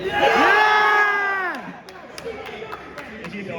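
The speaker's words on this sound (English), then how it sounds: "Let's get a cheer from the crowd." A crowd at a college tournament between York College and Guild College cheers and shouts loudly for about a second and a half, then the noise drops to scattered voices and claps.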